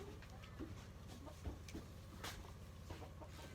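A chicken clucks near an indoor greenhouse, short soft clucks scattered over a steady low hum and background noise, fairly faint rather than close.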